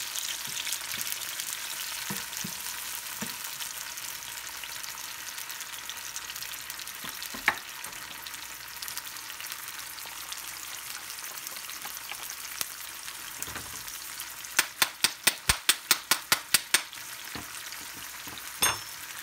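Tomatoes and canned corned beef frying in a pan, a steady soft sizzle close by with occasional scrapes and a quick series of taps from a utensil near the end, no talk.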